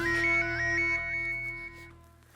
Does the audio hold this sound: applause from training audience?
no